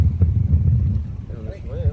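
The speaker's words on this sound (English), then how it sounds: "It's kind of windy" Gusty outdoor wind buffets the microphone with low rumbling bursts, loud at first and then easing, while someone talks over it near the end.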